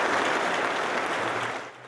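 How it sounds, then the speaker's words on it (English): A round of applause from attendees at a memorial mass in Mexico City, dense sustained clapping from a crowd that tapers off near the end. "Attendees then took part in a round of applause."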